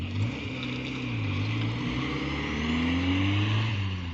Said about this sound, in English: And there's the Mitsubishi Lancer Gsr from the workshop meet.